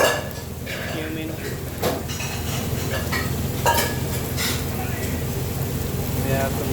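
Chili powder, garam masala and cumin go into a pot of goat curry, with steady clinks and scrapes of a spoon against the pot and a soft sizzle beneath, while someone talks over it.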